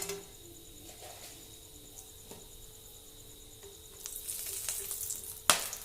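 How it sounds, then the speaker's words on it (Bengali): Whole garam masala tempering in hot oil, a faint low sizzle at first that swells into louder crackling frying toward the end, ending with a sharp clatter. "এবার ফোড়নে দিয়ে দিচ্ছি গোটা গরম মশলা।"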